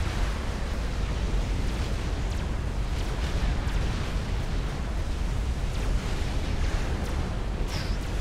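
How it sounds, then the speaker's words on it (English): Artillery-based experimental units trade fire in a Supreme Commander 5v5 battle: a continuous dense rumble of booms and explosions, loud and steady throughout with no clear separate blasts. "A trade of fire now between the two artillery-based experimentals in the game"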